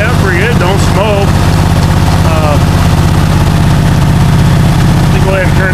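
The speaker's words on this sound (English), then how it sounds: "It's got a 20 horse Kohler, 20 engine on it. It sounds pretty good." Riding mower with a 20 hp Kohler engine idling close and loud, a steady low rumble throughout while someone talks over it.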